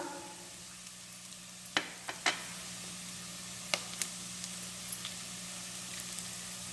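Chicken pieces fry quietly in a pan for a chicken pepper fry, a soft steady sizzle broken by a few sharp pops and crackles, with no talking.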